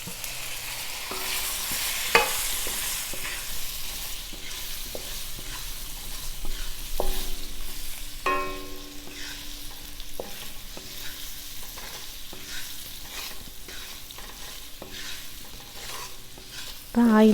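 Boiled, peeled baby potatoes fry in oil while a spatula scrapes and taps against the pan in irregular strokes over a soft, continuous sizzle.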